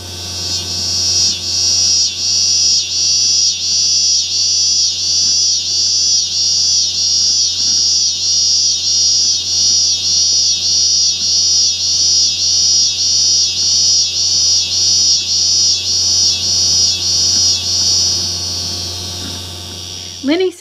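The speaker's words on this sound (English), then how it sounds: "The scissor grinder cicada sings a pulsating song from late morning to dusk in deciduous woods, parks, and suburban areas." A scissor grinder cicada sings its loud, rapid pulsating song in deciduous woods or suburban trees, the throbbing buzz running steadily for about eighteen seconds before cutting off abruptly, under a low steady hum.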